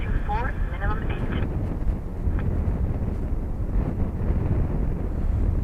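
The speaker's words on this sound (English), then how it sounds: "these gusty crosswind conditions expected to continue till about 10, half 10" Gusty crosswind at Dublin Airport buffets the microphone in a constant, heavy low rumble that surges slightly, with a faint fluttering tone near the start.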